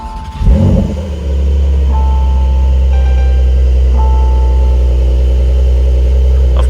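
A 2020 Porsche 911 Carrera S Cabriolet with a seven-speed manual fires up with a sharp cranking burst, then settles into a loud, steady, low engine rumble that holds on through the rest.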